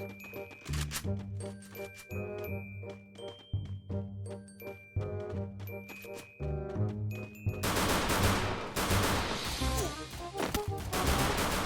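Rapid gunfire bursts in the Free Fire mobile shooter, loud sharp shots over game music and effects, growing into a dense continuous barrage in the second half.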